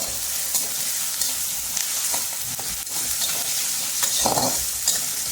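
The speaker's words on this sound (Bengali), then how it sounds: "আলুটা আমি হালকা করে ভেজে নেব।" Potato pieces fry lightly in hot oil in a pan, giving a continuous loud sizzle broken by occasional scrapes and clinks as the potatoes are stirred.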